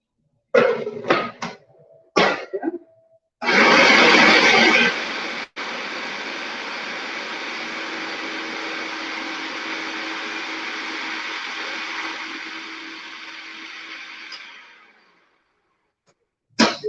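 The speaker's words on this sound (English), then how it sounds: "My spatula here and blend it just a little more." A blender whirs through vegan basil pesto in a kitchen, a loud, harsh motor roar that runs steadily for about ten seconds before winding down to silence, after a few short knocks and scrapes at the start.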